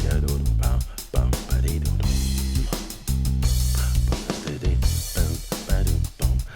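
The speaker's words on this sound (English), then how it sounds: "a version of the bass that sounds like this" Demo bass guitar part for a Logic Pro track, playing steady low notes within a full, loud band mix with punchy drums throughout.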